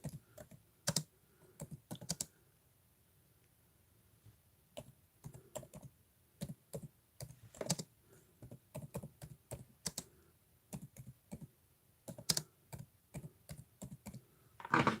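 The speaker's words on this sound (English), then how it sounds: "I'm typing on mine right now." Typing on a computer keyboard, a steady run of close, crisp key clicks in irregular bursts with short pauses, no voices.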